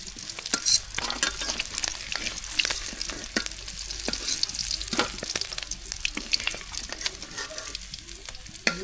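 Eggplant fries in hot oil, a dense crackling sizzle broken by sharp pops and scraping stirs that come close and loud in an uneven rhythm.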